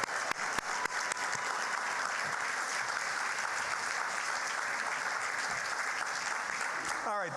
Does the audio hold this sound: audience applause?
yes